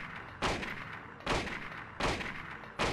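Four loud gunshots fired at roughly even intervals in the Silent Hill video game, each a sharp burst followed by a short fading tail, with no talk.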